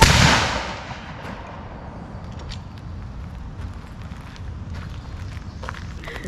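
Volley of reenactment soldiers' muskets fired at once outdoors, a single loud blast at the start that rolls away into a long fading echo, followed by ambient crowd noise and shuffling.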